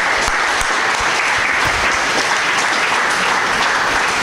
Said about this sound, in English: I'm going to get a round of applause